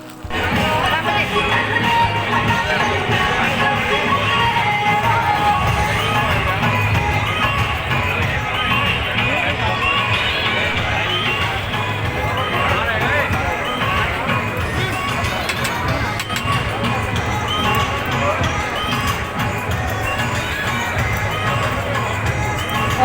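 A wedding crowd fills the space with a dense, steady murmur of many voices and chatter, constant and fairly loud throughout.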